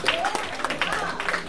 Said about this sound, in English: come on and clap your hands this morning